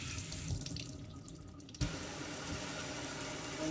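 Warm tap water runs into a strainer while vegetables are rinsed in a sink, a steady close rushing flow with a brief clunk and a shift in the stream near the middle.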